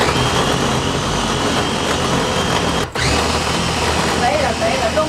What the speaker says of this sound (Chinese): 切碎之后，我直接用绞肉机啊